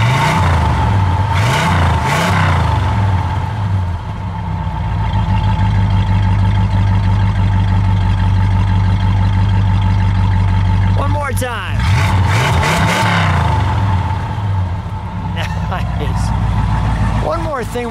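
A 1968 Dodge Charger R/T with a 440 engine idles with a deep rumble, then is revved twice in two separate bursts that rise and fall, while someone talks near the car.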